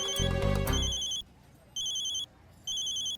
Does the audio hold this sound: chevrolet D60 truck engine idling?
no